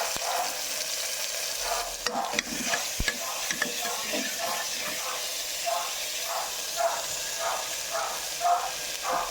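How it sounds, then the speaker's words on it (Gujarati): Cumin, asafoetida, ginger and green chili hiss and sizzle in hot tempering oil, a steady close frying sound with a soft rhythmic stirring scrape and a couple of sharp utensil knocks. "વઘારમાં આપણે જીરું નાખીશું, હિંગ નાખીશું, પછી આદુ લીલા મરચાં નાખીને મિક્સ નાખીશું."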